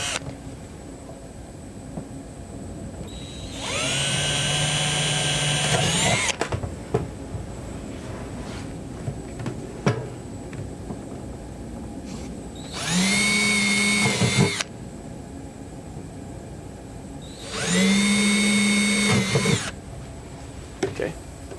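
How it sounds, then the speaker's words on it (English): A power drill bores holes during a vehicle steering and console repair, sounding in three loud whirring bursts of about two to three seconds each, separated by quieter pauses. "Now I'm drilling the holes."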